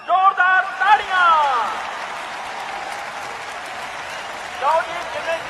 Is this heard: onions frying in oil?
no